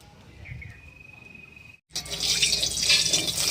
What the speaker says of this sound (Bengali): কড়াই গরম হয়ে গেছে এবার দিয়ে দেবো সরিষার তেল